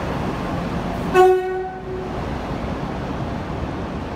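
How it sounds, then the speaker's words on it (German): A locomotive's horn sounds one short, loud blast over steady rumbling rail noise as it arrives, then the engine keeps droning past close by, in Transylvania, Romania. "Da kommt noch eine geile Lok."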